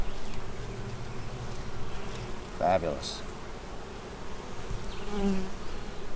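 Steady buzzing of many Carniolan honey bees at a hive fills the background, close and continuous, with a person speaking briefly over it.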